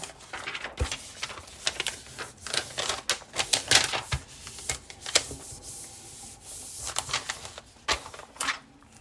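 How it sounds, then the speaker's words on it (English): Paper being burnished and rubbed down onto a galvanized metal bucket, a close run of dry scratchy rubbing strokes in irregular bursts, with no talking. "I'll just really burnish this down."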